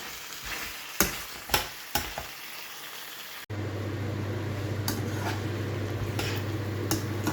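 Mutton stir-fried in a karahi: a few sharp scraping stirs, then a steady loud sizzle that fills the rest, with occasional spatula knocks and no talking.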